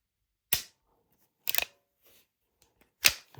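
Magazine inserted into a Kovert X Miller 5-inch 2011 pistol, heard as three sharp, close metallic clicks and snaps spaced about a second apart, with quiet pauses between.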